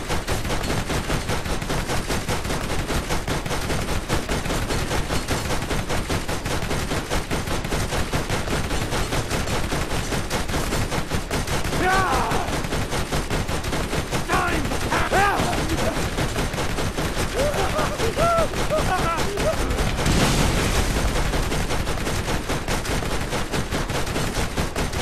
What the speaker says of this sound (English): I'm just gonna keep firing until this guy falls.